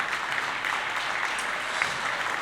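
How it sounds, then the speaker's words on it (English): An audience applauds at a jazz concert, a dense, even wash of clapping that holds steady throughout with no voices over it. "I hope there will be a lot of applause"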